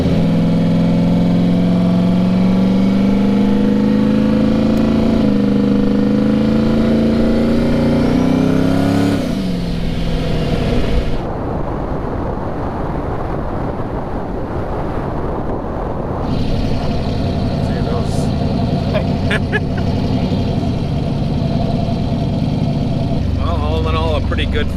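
Turbo LS-powered car on a test drive, a loud steady engine drone that rises in pitch under acceleration, then drops and settles into a rough lower rumble, with people talking over it.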